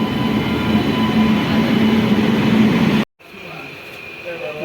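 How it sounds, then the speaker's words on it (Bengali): A train pulls into Khagraghat station in Murshidabad with a loud, steady rumble and hum. The sound cuts off abruptly partway through, then returns as a quieter rolling. "আমাদের ট্রেন ঢুকছে এইমাত্র"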